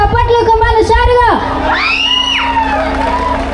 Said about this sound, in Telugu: ఒక్కసారి ఇక్కడున్న లేడీస్ అందరూ గట్టిగా చప్పట్లు కమ్మాలి